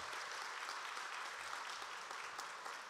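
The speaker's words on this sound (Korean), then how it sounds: "우리 아이들에게 우리 격려의 박수" Dense, continuous applause from a church congregation encouraging the children at a Sunday afternoon service, a full steady wash of many hands clapping, heard somewhat distantly and evenly throughout.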